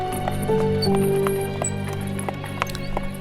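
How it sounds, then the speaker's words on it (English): A horse galloping over cobblestones at night on a long journey to a citadel: rhythmic hoof clip-clops with sustained tonal ambient music underneath, fairly loud and close. "All you hear in the late night is the galloping of this horse hitting the cobblestones"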